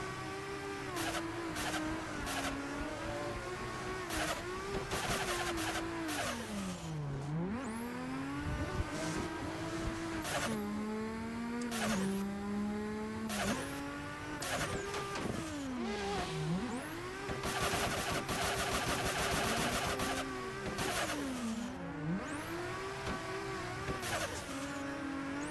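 Race car engine in the iRacing simulator game, revving up through gears with repeated rising pitch sweeps and drops at each shift, loud and continuous with occasional tire squeal, no talking.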